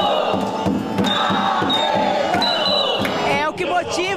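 A crowd in a gym cheers competitors at a dance contest final, loud shouting and whooping over rhythmic thumping beats, with a brief squeaky shift near the end.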